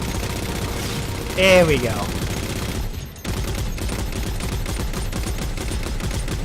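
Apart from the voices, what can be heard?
turret gunfire in the video game Halo 4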